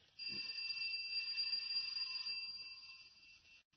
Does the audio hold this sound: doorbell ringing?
yes